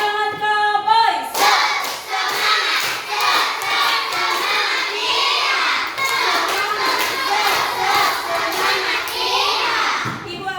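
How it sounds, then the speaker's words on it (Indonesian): In a primary school classroom, a group of children claps and shouts a rhythmic encouragement chant together, loud and close, with a quick burst of adult speech just before the steady clapping starts. "Kurang semangat ya, kita tepuk semangat dulu. Tepuk semangat cowboys."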